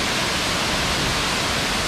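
A waterfall in San Carlos, Antioquia roars as a loud, dense, unbroken rush of falling water, close by and without voices.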